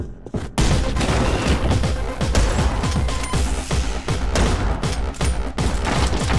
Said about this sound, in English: Give me a full shotgun.